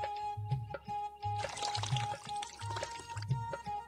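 Water poured to wash feet during a wedding ritual in a video game, a soft splashing pour over a rhythmic repeating musical background with steady tones.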